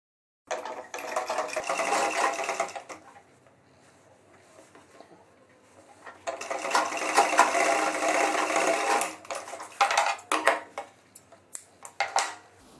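A sewing machine stitching the double-welt back pocket of a pair of trousers, with two runs of fast, steady needle whirring separated by a quiet pause, then short stop-start bursts at the end.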